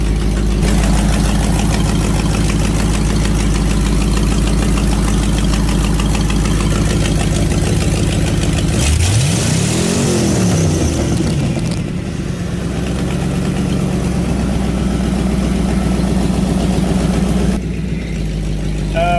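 A twin turbo Fox body engine fitted with new injectors, idling loudly up close with a rough steady rumble, then a single rising and falling rev midway before settling back to idle.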